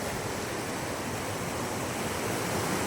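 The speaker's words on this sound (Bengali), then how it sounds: "এইদিকে জলের স্রোতটা দেখুন, মানে যে দাঁড়াবে তাকে নিয়ে চলে যাবে।" A strong river current rushes past, a loud, steady, broadband roar of flowing water with no breaks, close and filling the whole scene without any voices.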